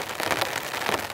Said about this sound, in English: The rain is now falling in a persistent deluge.